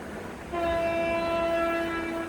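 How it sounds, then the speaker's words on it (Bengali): A train horn sounds a sustained, steady tone over rumbling rail noise, fairly close and loud, holding for a couple of seconds. "এখানে ট্রেন আছে, আমি আপনাদেরকে ট্রেনের ফুটেজটা দেখাচ্ছি।"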